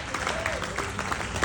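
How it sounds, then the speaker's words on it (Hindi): Seminar audience in Jaipur applauds, a steady patter of many hands clapping at moderate volume for a brief moment, with a faint voice underneath. "तो बस शानदार तालियां"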